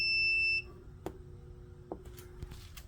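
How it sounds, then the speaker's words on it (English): Smoke detector in a fire alarm system test setting letting out a single loud, high electronic chirp at the start, followed by quiet room noise and a few faint clicks. "Just heard a smoke detector chirp."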